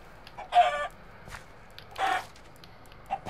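Chickens cluck in the video game Minecraft, two clear bursts of clucking with a few fainter clucks and soft footsteps between them, with no talking.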